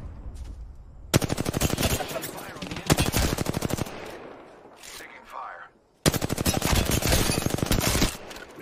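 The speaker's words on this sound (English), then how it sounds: "The enemies are shooting" Rapid automatic gunfire from enemies in a shooter video game, two long loud bursts of fast rattling shots split by a quieter gap with softer effects, close and dominant.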